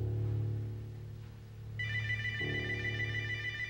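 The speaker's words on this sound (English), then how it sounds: "Don't answer the phone." A telephone rings with a steady electronic tone, a sustained bright trill that enters partway through over a low hum, with no voices present.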